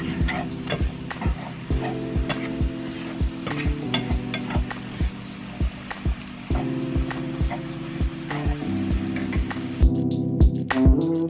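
Flour for mushroom gravy cooks in a pan, sizzling steadily while a utensil stirs and scrapes in a regular rhythm of clicks, loud and close with no talking.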